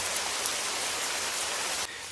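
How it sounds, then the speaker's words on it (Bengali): Heavy rain pours down in a dense, steady hiss, loud and unbroken, easing slightly just before the end. "বৃষ্টি আরও জোরে নামল।"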